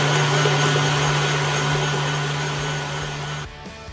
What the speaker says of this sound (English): all we're going to do is put this into the mixer and whisk it up until it's really thick and fluffy